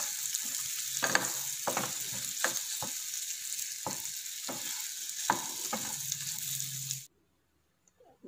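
Paneer lightly frying in a pan makes a close, steady sizzle with spatula scrapes and taps repeating every second or so, then it cuts off abruptly into near silence.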